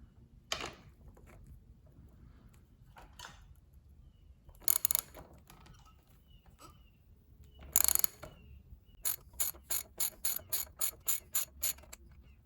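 A ratchet loosening a 10mm bolt on the fork of a 1996 Yamaha Virago XV750, a few scattered clicks, then a rapid run of about nine sharp, close ratcheting clicks near the end, over a quiet background.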